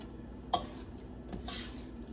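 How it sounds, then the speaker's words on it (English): A spoon stirs chicken alfredo sauce in a pot, giving a soft scrape with a couple of brief clinks against the side over quiet kitchen background. "So we're taking this spoon and we'll just mix it in here."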